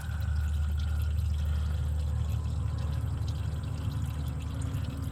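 Used engine oil drains from a 2015 Honda Civic into a catch pan, a steady low pouring trickle that runs unbroken and fairly loud from start to finish with no talking.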